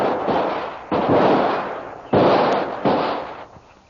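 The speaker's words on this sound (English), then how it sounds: "both the savage and Kolo start shooting at each other" Gunshots traded by a jungle savage and Kolo in a shootout, heard as four loud, sharp blasts with reverberant decays, irregularly spaced and close, with no voices.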